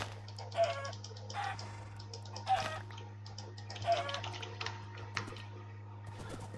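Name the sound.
chickens clucking in Minecraft video game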